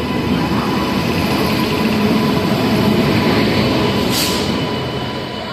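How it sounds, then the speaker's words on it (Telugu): The Padmavathi Express, hauled by a WAP-7 electric locomotive with LHB coaches, rolls into the station with a loud, steady, close rumble of wheels and carriages, easing slightly toward the end. "మన ట్రైన్ అయితే వచ్చేసింది వ్యాప్ 7 లోకోమోటివ్ విత్ LHB కోచెస్."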